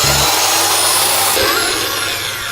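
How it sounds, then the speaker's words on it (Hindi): A very large drill grinds loudly and steadily at close range while digging into the ground outdoors, a dense continuous roar with a low hum at the start that then gives way to broad mechanical noise. "मेरे पास दुनिया की सबसे बड़ी ड्रिल है, मुझे ढूंढना ही होगा।"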